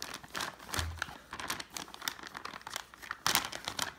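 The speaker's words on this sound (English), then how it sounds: "It comes in this nice plastic bag. Alright, let's take it out now" A plastic bag crinkles and rustles as a camping hammock is pulled out, with irregular crackling bursts close to the mic and a sharper crunch near the end.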